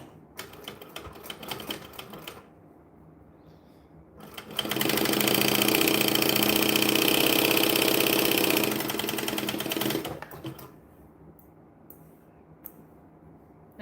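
A sewing machine stitches stretchy fabric with thick thread. It gives a short burst of rapid mechanical clatter, pauses, then runs for a long steady stretch of several seconds before stopping, with quiet handling noises around it.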